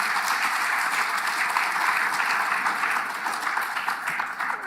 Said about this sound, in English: maybe you can do that by an applause if you agree